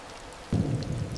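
Rain falling at a river crossing near a forest: a faint patter at first, then a sudden louder surge of downpour with a low rumble that continues to the end.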